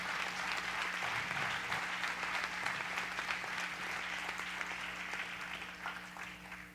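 A congregation at a church service claps together in sustained, even applause, heard at moderate level with a faint steady hum underneath and the clapping gradually thinning toward the end.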